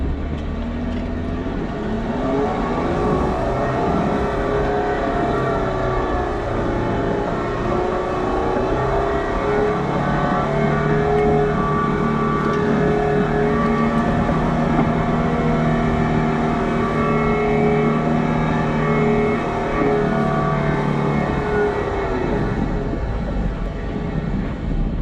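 An off-road vehicle engine with locked differentials revs and strains while climbing a trail, a sustained loud drone that rises and falls for about twenty-five seconds with no talking.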